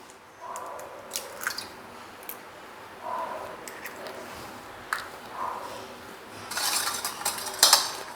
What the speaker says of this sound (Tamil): இப்போ முட்டையும் போட்டு இதை நல்லா பீட் பண்ணிக்கோங்க